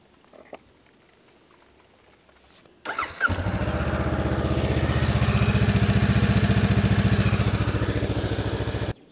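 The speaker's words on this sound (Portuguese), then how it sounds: "eu deixei a moto rodar por mais 1 minuto" A Honda CB500X motorcycle engine cranks and catches after a quiet stretch, then settles into a steady, throbbing idle heard close up and fairly loud, with no one talking.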